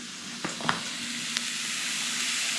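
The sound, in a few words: searing bison backstrap in a pan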